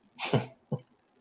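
A close, sharp sneeze bursts out in a quiet indoor room, followed a moment later by a shorter second burst, with no talking around it.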